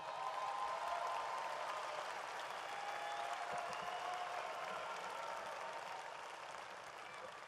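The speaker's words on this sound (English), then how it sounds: "So how about a round of applause for the teachers?" An audience at a university commencement ceremony gives the teachers a round of applause, a steady wash of clapping from many hands that fills the whole stretch and fades slightly toward the end, heard at some distance.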